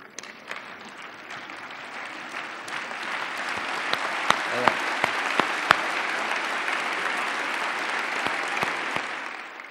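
At a school prize-giving ceremony, a standing audience gives the pupils' parents a long, sustained round of applause, with a few louder individual claps standing out from the dense crowd noise.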